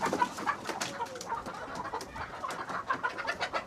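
Fayoumi chickens cluck steadily and scuffle about as they jump around a poultry enclosure, with many overlapping birds close by and no voices.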